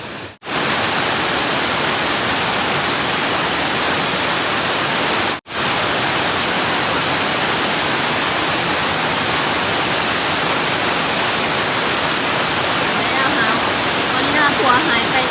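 Nang Rong waterfall in Thailand roars as a loud, dense and continuous rush of falling water, interrupted only by two brief dropouts near the start, with no clear talk over it.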